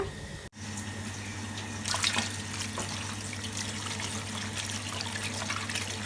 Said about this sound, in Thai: เราจะล้างน้ำปูนใสนะคะ ประมาณ 3-4 รอบนะคะ